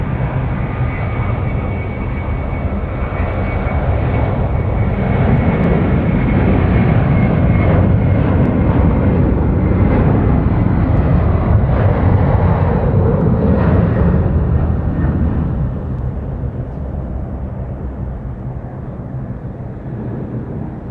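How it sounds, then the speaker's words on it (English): A Qantas airliner in oneworld livery rolls for its takeoff to Manila at Sydney Airport, a loud, sustained engine roar with broadband rumble that swells mid-clip and eases slightly toward the end, no talk over it. "The Qantas 19 service now, rolling off to Manila."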